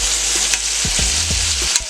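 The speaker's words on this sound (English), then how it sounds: "I got my pressure cooker on sear mode here. And we're going to sear these pieces of meat off." Pieces of meat searing in a pressure cooker on sear mode, a steady close sizzle with a few soft knocks and scrapes as the meat is moved around, no talk.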